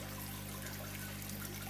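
Water trickles and splashes steadily from a small garden pond waterfall, a soft continuous wash heard close with a low steady hum beneath it.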